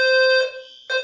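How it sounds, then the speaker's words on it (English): An electronic fire alarm blares a loud, steady, high-pitched tone, drops out briefly, then sounds again at full strength, with no voices over it. "Fire alarm. Maybe that's the fire alarm you're talking about?"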